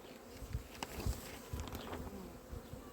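Honey bees buzzing around an open beehive while frames are handled, a dense, close insect drone with a few individual bees whizzing past, no talk heard.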